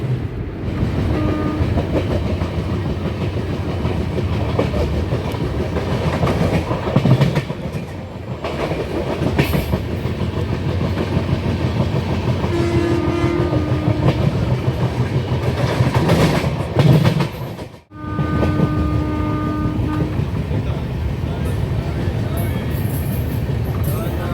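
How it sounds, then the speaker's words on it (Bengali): A train from Kolkata to Kerala rolls steadily along the rails through the Eastern Ghats with a constant rumble and rhythmic clatter, briefly interrupted, while people talk faintly in the background. "ট্রেনের পিছন দিকে আবার নতুন একটা ইঞ্জিন লাগবে এবং আপনি আবার উল্টো দিকে চলতে শুরু করবেন"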